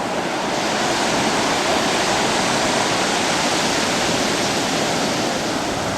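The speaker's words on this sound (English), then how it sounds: "Some of those waves getting a little bigger now" Surf from ocean waves rolls onto a beach near Fort Macon, a steady, loud broadband wash that fills the whole stretch without a break, with no voices over it.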